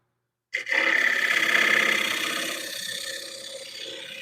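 A carbide tool cuts into a wooden plate spinning on a lathe, starting abruptly into a loud, close, continuous rasping hiss that slowly eases as the cut rides along.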